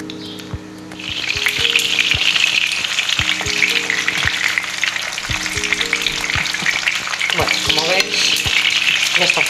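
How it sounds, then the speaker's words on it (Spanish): An egg fries in oil, a loud steady sizzle and crackle running throughout with sharp pops and a few scraping, clinking touches near the end. "un huevo frito, le echamos aceite por aquí"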